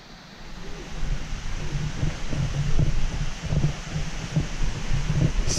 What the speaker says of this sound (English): I can hear the water up here